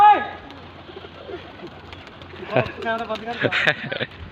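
Malwai pigeons coo on a rooftop, with soft repeated cooing that grows busier toward the end, mixed with people talking close by.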